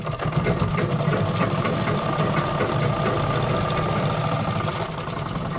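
An electric sewing machine runs a steady, fast stitch on a V-neck designer blouse, a close continuous whirring hum with a rapid needle rhythm and no voices over it.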